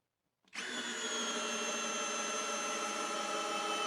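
A Hyper Tough brushless drill spins up sharply and drives a screw into wood, a loud steady high whine that holds close and constant after a quiet start.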